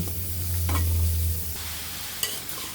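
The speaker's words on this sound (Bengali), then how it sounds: "চিংড়ি মাছগুলো ভাজা ভাজা হয়ে গিয়েছে। এখন তরমুজের খোসাগুলো আমরা দিয়ে দিব।" Shrimp and watermelon rind sizzle in a pan while being stirred, with a continuous close frying hiss and a light scrape or clink near the end. No one talks.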